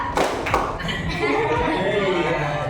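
Classroom pupils clap a counted pattern in short groups of sharp, close claps, followed by a teacher talking over light classroom chatter and a little laughter.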